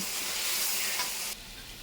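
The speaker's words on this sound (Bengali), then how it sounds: "আমার মশলাটা কষানো হয়ে গেছে দেখছে সাইড দিয়ে তেল দিয়ে এসছে এবার দিয়ে দেবো চেনগুলো" Spiced masala and chicken pieces sizzle and fry in oil, a steady loud hiss with a faint stir, the sizzle dropping off abruptly near the end.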